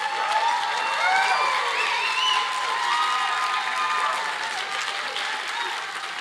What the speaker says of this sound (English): let's hear another round of applause for the beautiful music you heard earlier